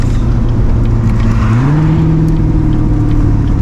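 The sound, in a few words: Chevrolet Corvette C8 engine at quarter throttle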